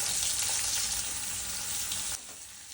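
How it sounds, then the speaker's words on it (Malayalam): Sliced onions hit hot oil already popping with mustard seeds and cumin in a pan, a loud, dense sizzle that holds steady before dropping abruptly quieter near the end, with no talking. "സവാള ഇട്ട് കൊടുക്കുക"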